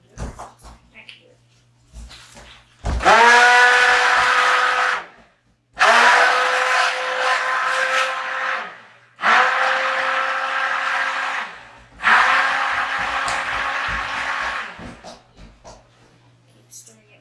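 An immersion blender whirs through soap batter in four loud bursts of a few seconds each, separated by short pauses and faint handling noises.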